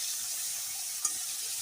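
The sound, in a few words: fish heads frying in oil in a wok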